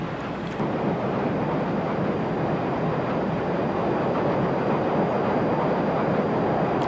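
A train hauled through the air beneath a cargo plane in the video game Just Cause 3 makes a steady, loud roaring rumble with a windy rush, continuous from start to finish.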